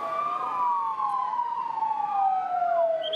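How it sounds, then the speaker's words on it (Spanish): A wailing ambulance siren in Bogotá after a road accident sweeps up and down continuously, loud and fairly close, with no talking. "Pasadas las 4, empezaron a sonar ambulancias."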